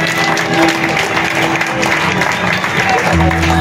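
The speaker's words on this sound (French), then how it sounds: "Merci pour vos applaudissements, chers invités." Guests clap after a poetry recital, dense applause and crowd noise throughout with a low steady hum, loud and close.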